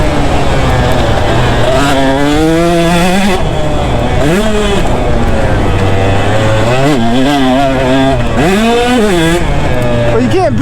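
A KTM 150 SX two-stroke dirt bike ridden hard on a track, its loud buzzing engine revving up and down in repeated surges close by, with no voices.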